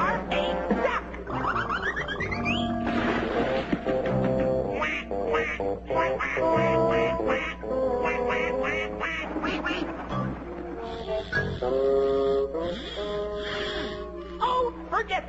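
A hypnotised cartoon cat quacks like a duck, a long run of loud, rapid nasal quacks with squawks and gasps mixed in, voiced in imitation of a duck over a soundtrack bed.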